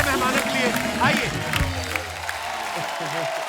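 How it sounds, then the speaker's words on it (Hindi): Studio audience applause for guests on The Kapil Sharma Show, a dense steady clapping wash with some cheering that carries through the whole stretch, mixed with lively voices and a host speaking over it. "एक बार जोरदार तालियां हमारे मेहमानों के लिए"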